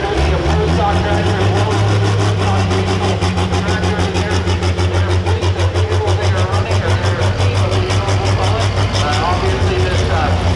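A loud, steady engine roar with a fast rhythmic throb from a big-turbo pro stock John Deere pulling tractor at a tractor pull in Henry, Illinois, running continuously with no pauses and mixed with faint background voices.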